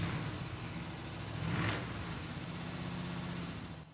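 International Scout truck engine running with a low mid-pitched idle, steady and moderately loud, with a brief swell of revving partway through.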